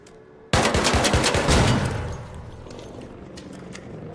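Rapid automatic turret gunfire in the video game Arc Raiders bursts out abruptly, a loud rattling stream of shots for about a second and a half, then fading into echoing rumble.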